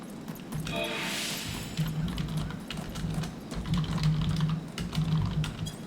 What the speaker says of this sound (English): I can't type with a microphone in front of my keyboard.